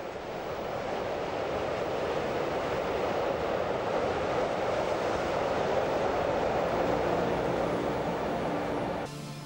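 A steady, loud rumbling roar of a Class 171 (E 251) electric locomotive train running on the Rübelandbahn rails, continuous and close, ending abruptly near the finish.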